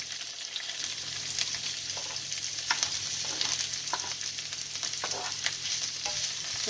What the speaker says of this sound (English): So you just saute your garlic and your capsicum and your onion.